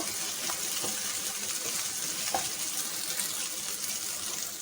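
Water poured into a pan of frying taro and shrimp, a steady rushing hiss with faint sizzling underneath, continuous throughout.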